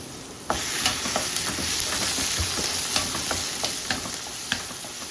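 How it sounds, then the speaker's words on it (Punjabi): Cut tomatoes and green chillies drop into spiced masala frying in a pan for besan bhurji, bringing a steady close sizzle with soft stirring clicks and scrapes scattered through it, and no voices. "ਹੁਣ ਆਪਾਂ ਟਮਾਟਰ ਤੇ ਹਰੀਆਂ ਮਿਰਚਾਂ ਕੱਟੀਆਂ ਹੋਈਆਂ ਦੇ ਵਿੱਚ ਪਾ ਰਹੇ"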